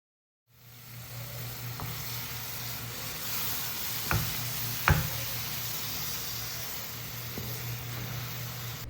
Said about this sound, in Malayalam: ഇനി നമുക്കിതിലേക്ക് പേസ്റ്റാക്കി വെച്ചിട്ടുള്ള തക്കാളി ചേർത്ത് കൊടുക്കാം കേട്ടോ.